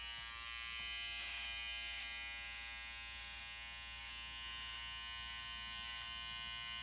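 Electric hair clipper buzzing steadily and close while trimming a man's classic side part combover, a constant high whine with no talking.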